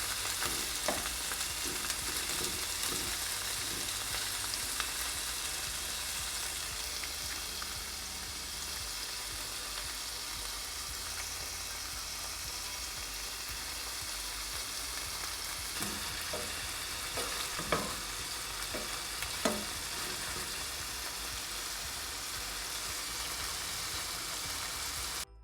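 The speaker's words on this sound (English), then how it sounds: "Once the oil is hot, add the shrimp in a single layer and cook for about 2 minutes per side" Shrimp fry in a single layer in hot oil in a large pan for creamy garlic shrimp, giving a steady, dense sizzle that runs unbroken throughout, with a few faint clicks and taps and no voices.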